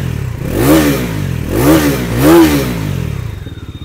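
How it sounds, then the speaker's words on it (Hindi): A 2024 Bajaj Pulsar NS400 motorcycle engine revs sharply three times in a row, close and loud, settling back to a rough idle between blips. "अब यहाँ पर बात करते हैं NS 400 के बारे में, और इसकी जो आवाज़ है ये भी आप लोग यहाँ पर सुन लीजिए।"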